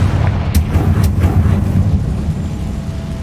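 Confringo spell blast in Hogwarts Legacy: a loud, rumbling explosion with a few sharp cracks early on, settling into a low sustained roar.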